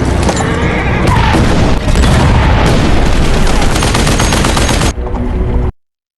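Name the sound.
cannon fire and gunshots in a film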